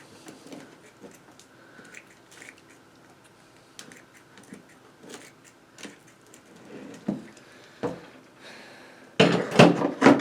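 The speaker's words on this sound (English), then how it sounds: "I'm going to go ahead, trim these roots off." Roots of a black olive bonsai are trimmed with scattered, quiet snips and clicks, some sharper cuts spaced irregularly, ending in a louder burst of rustling handling.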